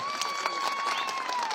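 Scattered audience clapping at a wedding celebration welcomes a singer, fairly faint and thin beneath a sustained musical tone.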